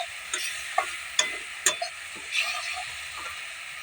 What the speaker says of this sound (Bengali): তারপরে আমি কড়াইয়ের মধ্যে দিয়ে দিলাম লঙ্কার গুঁড়ো, হলুদ গুঁড়ো, স্বাদ মতো লবণ দিয়ে কষিয়ে নিলাম ভালো করে।